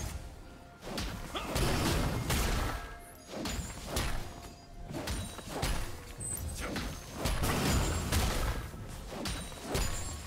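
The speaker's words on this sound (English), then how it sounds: "Team's turret has been destroyed." A turret is torn down in League of Legends, with repeated heavy crashes, thuds and swooshing strikes in a steady rhythm of bursts, fairly close and loud throughout.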